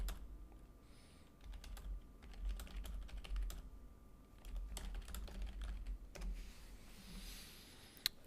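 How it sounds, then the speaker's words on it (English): Typing on a computer keyboard during a live tennis play-by-play stream, steady runs of close, crisp key clicks at an uneven pace with a low background hum and no talking. "I'm typing to you, Lou."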